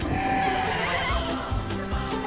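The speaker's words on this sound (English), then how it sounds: "Come back, you pesky sheep!" Sheep bleating over a busy, noisy background, the wavering animal calls loud and steady throughout rather than standing alone.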